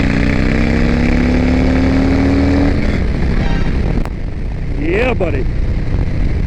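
A Harley Softail Street Bob with a Two Brothers Racing exhaust drones steadily while riding, its engine note rising and then shifting as a gear drops, with someone speaking briefly over the loud exhaust.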